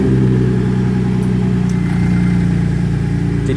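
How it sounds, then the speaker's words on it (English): A Pontiac G8 engine running steadily at idle after a remote start, loud and close, with a constant low rumble and a few faint ticks. "Let's remote start it and see if she makes that sound."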